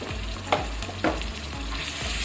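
Ginger, garlic and green chili paste fries with golden onions for keema gobi, a continuous close sizzle punctuated by regular stirring scrapes and a couple of sharper knocks of the spoon, no voices.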